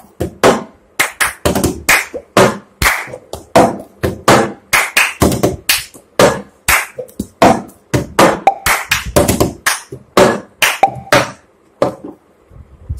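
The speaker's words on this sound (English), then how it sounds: "go for it as fast as you can do the motion, like clap, clap, tap, tap, tap, up, down, clap, tap," Cup song rhythm played fast on plastic cups: sharp hand claps and cup taps and thumps follow in a steady, quick, repeating pattern, loud and close with short gaps, no voices.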